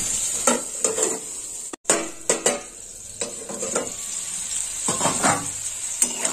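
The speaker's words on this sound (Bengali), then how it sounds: "কুঁদরিটা ভাজা হয়ে গেছে" Ivy gourd (kundri) frying in oil in a pan, with a close, continuous sizzle broken by repeated scraping and clattering of a spatula as the pieces are turned.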